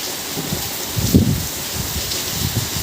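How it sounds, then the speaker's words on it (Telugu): Heavy rain pours down in a village as a steady, dense wash, with a slightly louder burst of close drops near the middle. "బీభత్సమైన వర్షం"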